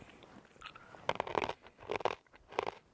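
Someone eating gluten-free honey mustard Catalina Crunch cereal: close, loud crunching bites come in three or four bursts, with quieter chewing between them and no speech.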